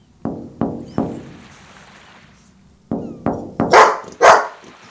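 Three sharp knocks, then a pause, three more knocks, followed by two loud dog barks close by.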